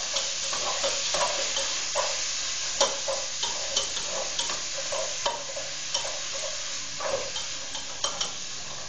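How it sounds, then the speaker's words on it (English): A spatula stirring browning meat in a frying pan: a continuous sizzle with regular scraping and tapping strokes every half second or so, close up and moderately loud, with no speech. "We're going to use our spatula here again, and we're going to mix it all up."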